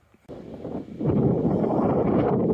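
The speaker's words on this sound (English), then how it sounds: "it's getting quite windy" Gusty wind buffets the microphone with a loud, rough roar that rises suddenly and keeps blowing strongly.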